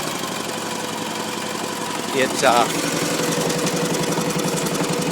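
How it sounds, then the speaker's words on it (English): A Gravely Model L8 walk-behind tractor with a 10hp diesel engine runs steadily at idle, with a close, even chugging pulse throughout and a brief squeak partway through. A short spoken word comes near the start. "real smooth running engine."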